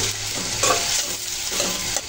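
Chopped onions sizzling in a pan for a taki fish curry with tomato and potato, a steady close fry with a few stirring scrapes.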